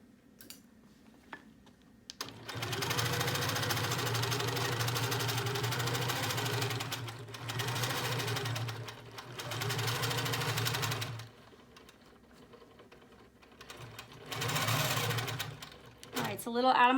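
A longarm quilting machine stitches binding onto a quilt, its motor whirring steadily in several long runs of a few seconds each, separated by brief pauses and finishing with a short final burst.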